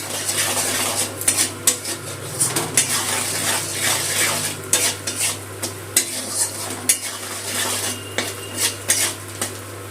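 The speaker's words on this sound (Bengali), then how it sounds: "একটু তেলের মধ্যে কষিয়ে নেব মশলাটা" Ground spice masala is sautéed in oil in a pan over low flame, with a steady sizzle under repeated scraping and clinking of a metal spoon against the pan, close and without talk, with a constant low hum beneath.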